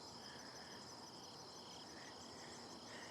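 Crickets chirp steadily outdoors in a wooded spot, a continuous layered trill of many insects with faint repeating pulses, no voices.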